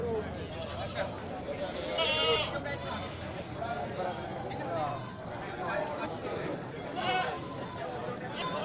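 Goats and sheep bleat at a busy livestock market. Several loud, wavering calls rise over a constant crowd murmur, and people talk close by throughout.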